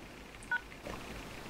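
A cell phone keypad gives a single short dial tone, quiet and close, followed by faint background hiss.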